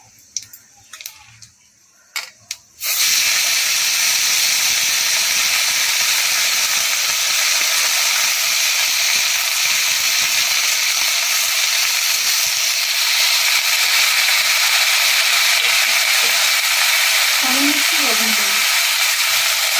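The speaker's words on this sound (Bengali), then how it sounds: "তেলের মধ্যে আমি শুকনো লঙ্কা আর কালো জিরে ফোড়ন দিলাম" Dry red chillies and black cumin seeds hit hot oil and break into a loud, steady sizzle that hisses on without a break after a few soft clinks.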